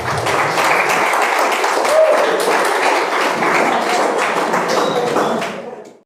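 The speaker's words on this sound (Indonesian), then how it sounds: "Tepuk tangan kan." Applause from an audience at a pesantren religious gathering, dense continuous clapping spread across the room, steady and loud for about five seconds before fading at the end.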